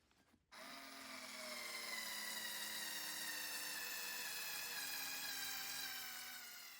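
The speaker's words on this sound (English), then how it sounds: "let's see how they handle the most basic screws I could find." Cordless drill driving basic screws into wood without a pilot hole, a steady loud motor whine with rising harmonic tones that runs continuously for about six seconds after a brief click at the start.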